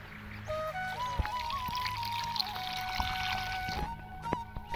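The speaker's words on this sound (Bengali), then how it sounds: "আমি ডালটা এখন ঘেটে দেবো জল দিয়ে দেবো" Water is poured into boiled masoor lentils in a pot for sour raw-mango dal, a close, steady pouring trickle heard over a faint tonal background.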